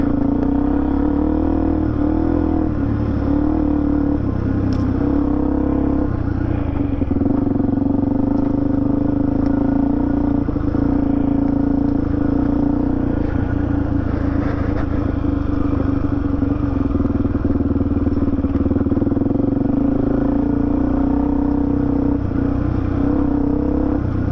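A Suzuki DRZ400E single-cylinder motorcycle engine drones steadily in second gear on a dirt track, loud and close with an even rumbling note and faint clatter, holding a constant pace throughout with no talking.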